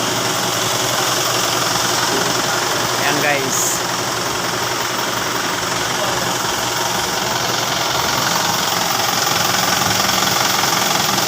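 An Isuzu 4HF1 diesel truck engine idles nearby with a steady, rumbling knock, loud and continuous, while someone speaks briefly over it.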